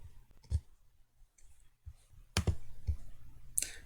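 Computer mouse clicking while working in FreeCAD's Curves Workbench, a few sharp isolated clicks spaced irregularly with quiet gaps between, close and fairly soft.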